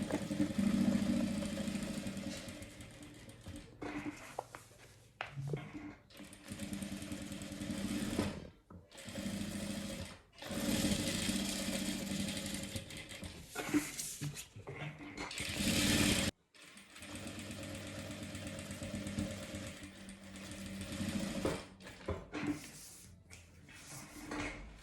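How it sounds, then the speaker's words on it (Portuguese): A sewing machine stitches a safety seam around a fabric vaccination booklet cover. Its close, continuous motor hum comes in long runs broken by short stops. "eu costuro faço uma costura de segurança tudo aqui em volta"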